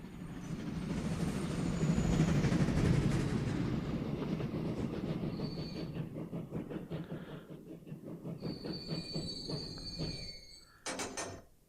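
Freight train rolling on rails in the video game Transport Fever, a steady loud rumble with rhythmic wheel clatter that eases slightly over time, ending in a short sharp burst of metallic noise.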